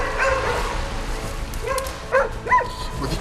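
Hunting dogs bark while chasing a wild boar, a few sharp yelping barks at middle distance rising over steady outdoor background noise, with no talking.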